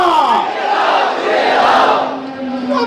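A large crowd roars back in unison at a Bengali Islamic gathering, a loud, sustained collective chant of Allahu Akbar answering the takbir call, close and full, swelling for about two seconds then fading.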